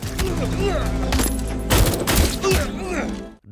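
Loud, dense film gunfire exchange from an Indonesian military action story about Kopassus soldiers in the Mapenduma operation in Papua: sustained overlapping volleys and thuds filling the whole stretch before cutting off.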